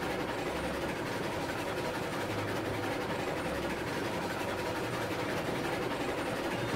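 A train rolls along newly laid track in the RailRoads Online railway game, a steady continuous rumble with low engine drone and faint rail clatter running throughout, no voices.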